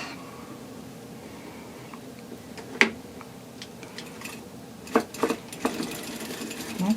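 A circular sock knitting machine is cranked back by hand, giving a few soft mechanical clicks and rattles, with sharper metallic clacks near the end and a quiet room hum beneath.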